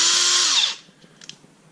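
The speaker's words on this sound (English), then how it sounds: "It's a DeWalt 20 volt max XR brushless 1/2" impact wrench." A DeWalt 20V Max XR brushless 1/2-inch impact wrench runs in one loud, close burst of high whirring under a second long, then winds down into quiet shop ambience while working on a starter replacement.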